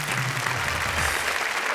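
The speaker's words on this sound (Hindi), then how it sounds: "तालियां।" Dense, continuous applause from a studio audience at a Hindi comedy poetry show. It is loud and steady throughout with no voices over it.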